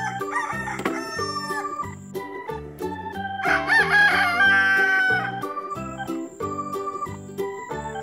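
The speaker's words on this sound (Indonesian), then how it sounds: "di sini ada ayam jantan juga" A rooster crows loudly and clearly over a bouncy, jingly background tune, one drawn-out cock-a-doodle-doo in the middle.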